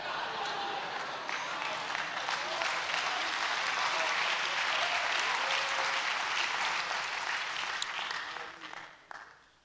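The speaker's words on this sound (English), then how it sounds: "I thank God for your applause" An audience at a Bible conference sermon applauds with dense, steady clapping that holds for about eight seconds, then tapers off and fades out near the end.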